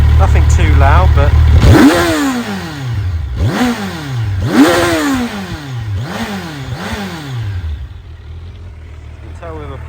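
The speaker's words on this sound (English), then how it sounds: "Let's take a listen. So obviously standard exhaust, big N can, Euro 5 and all that jazz," A 2025 Kawasaki Ninja 1100SX with its stock Euro 5 exhaust revs up loudly and close, several rising and falling revs in a row, with someone talking over it.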